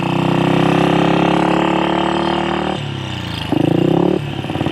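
A 1966 Royal Enfield Continental GT250 single-cylinder motorcycle rides through town in second gear, its engine loud and close with a throaty, sustained drone that drops back and then rises again partway through.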